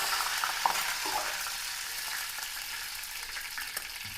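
Curry leaves sizzle in hot oil in a pan while a small pearl spot (karimeen) vinegar curry is prepared, giving a steady, close hiss of frying with light crackles and stirring throughout.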